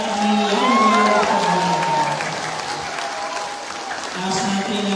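Congregation applauding and cheering at an El Shaddai chapter anniversary celebration, sustained clapping mixed with whoops and crowd voices, a tonal sung or amplified voice weaving over the steady applause.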